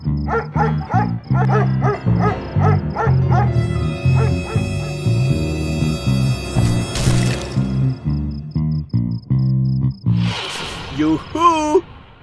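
A cartoon dog barks at a thief inside a house, sharp rhythmic yaps in quick bursts mixed with animated character voices talking.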